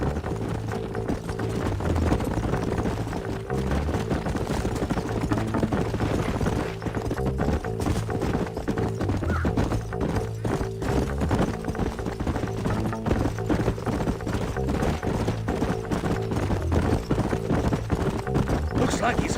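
Horses' hooves clip-clopping steadily in the Western video game Red Dead Redemption, a continuous close rhythm of several riders under a constant background bed.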